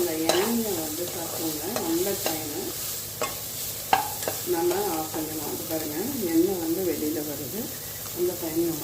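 Cauliflower pieces frying in a pan, stirred repeatedly; a constant sizzle carries rhythmic scraping and tapping of a spatula throughout, close and fairly loud, with no talk.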